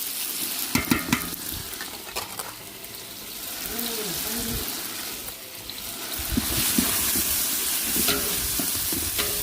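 Curry frying with ginger garlic paste in a pan, steady sizzling under scraping stirring strokes, close and moderately loud, with sharper clatters of the spoon against the pan.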